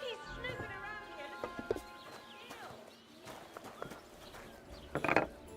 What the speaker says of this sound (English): Do you see that horse? He's snooping around here.